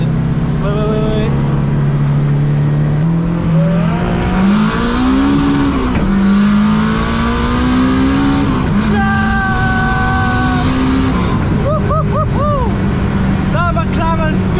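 A McLaren supercar accelerates hard away, its engine loud and close with rising and falling revs through gear changes, while people talk excitedly over the sustained roar.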